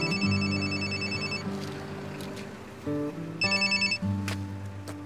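A telephone rings with repeated electronic tonal bursts, a melodic ringtone pattern that pauses briefly and resumes, clear and fairly close.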